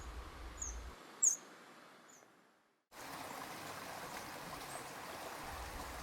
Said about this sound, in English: Imagine the water from the lake flow against the rocks